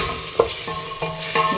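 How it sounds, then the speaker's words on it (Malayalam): Chicken pieces go into a hot pan with spices for chicken pepper rasam, giving a quick run of metallic clinks and scrapes over a light sizzle, close and brief. "അതിൻ്റെ അകത്തേക്ക് നമുക്ക് എടുത്തു വെച്ചിരിക്കുന്ന ചിക്കൻ ഇതിൻ്റെ അകത്തേക്ക് ഇട്ട് കൊടുക്കാം"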